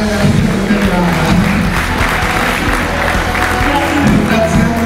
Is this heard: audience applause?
yes